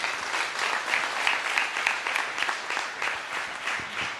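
An audience at a cities conference applauding, with continuous dense clapping held at an even level throughout.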